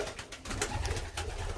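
Racing pigeons coo softly in a loft, a faint, low murmuring mixed with light rustling and background noise, with no talking.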